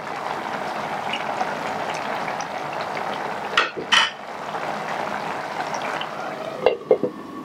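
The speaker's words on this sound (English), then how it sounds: "I've been simmering, let's say cooking the beans on, let's say low heat" Sweet beans with palm oil simmer in a covered pot on low heat, making a steady soft bubbling and hissing broken by a few brief clattering knocks.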